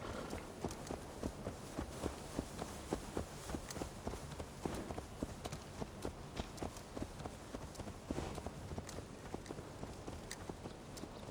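Horse hooves in Assassin's Creed Valhalla clip-clop in a steady, even walking rhythm, close and moderately loud, over a dense background of game ambience.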